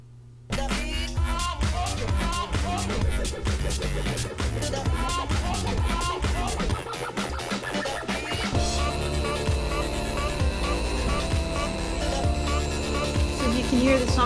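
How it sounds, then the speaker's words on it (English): DJ mix in Traktor with a sweep buildup effect: a steady beat plays loud and dense, then the texture shifts into a brighter, washed-out whooshing swell that keeps building, with no talking. "It's that sound that goes whoosh, and it builds up and then the beat drops."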